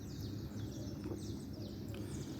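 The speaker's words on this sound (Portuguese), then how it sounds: "Passarinho." Small birds chirp at dawn near a garage with parked cars, giving faint, scattered tweets over a steady low background rumble.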